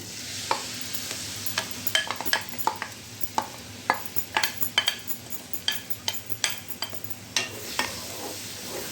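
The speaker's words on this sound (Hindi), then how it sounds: "तो प्याज अच्छी तरह से जो है वो हमने घी में भून लिया है" Crushed onions frying in ghee, stirred with a spoon that scrapes and clacks against the pan in quick irregular strokes over a continuous close sizzle, no speech.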